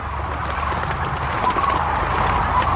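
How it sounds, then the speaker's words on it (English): Large flock of sandhill cranes calling on the Platte River in spring, a dense, continuous wash of overlapping rattling bugles at a distance, steady throughout with no voices. "we're hearing the sound of the sandhill cranes that visit the Platte every spring"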